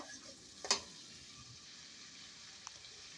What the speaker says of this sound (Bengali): এর ভিতরে একটু টমেটো দিয়ে দিলাম কাঁচা টমেটো